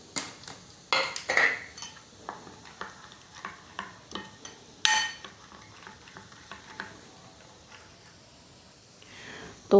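A spoon clinks against a bowl while stirring chopped green chili and coriander into eggless bread omelette batter, with irregular scraping taps and a few sharper knocks, close and fairly loud.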